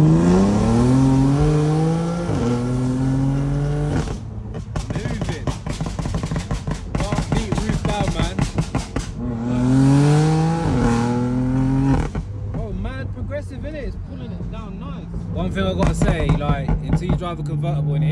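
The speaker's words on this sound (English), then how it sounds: "Drive a convertible and hear our engine, it sounds completely different." A 610 bhp BMW M4 accelerates hard during night racing, its engine note climbing loudly in two long rising revs broken by gear shifts and a rapid crackling stretch, with voices heard at times.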